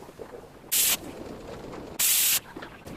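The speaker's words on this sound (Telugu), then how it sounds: "5 విజిల్స్ వచ్చేంత వరకు ఉడికించుకోవాలి" A pressure cooker vents steam in two loud, sharp hissing bursts about a second apart while dal cooks with onion, curry leaves, coriander, turmeric and green chilli. A low kitchen murmur fills the gaps.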